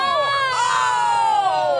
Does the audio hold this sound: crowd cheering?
yes